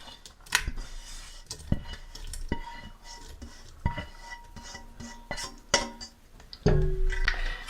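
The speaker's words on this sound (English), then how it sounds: "we're going to put the cooked mushrooms into the pan with the lentils" Cooked mushrooms go into a pan of lentils with repeated spoon clinks and scraping knocks against the metal pan, then a louder burst of stirring at the end.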